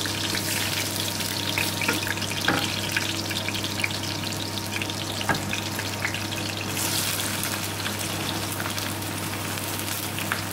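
Garlic fries in a pan while chana masala is being cooked, giving a steady, even sizzle that stays close and constant throughout with no voices.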